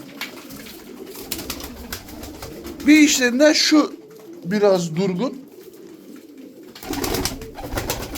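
Tumbler pigeons coo in a few short bursts, close and fairly loud, while someone talks over and between the calls.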